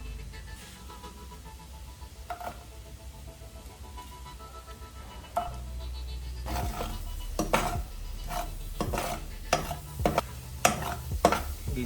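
Garlic frying in a hot pan for Sri Lankan koththu: a low sizzle at first, then louder stirring with repeated sharp clinks and scrapes of a utensil against the pan, close by.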